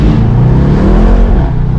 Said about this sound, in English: It just spins tires the whole time.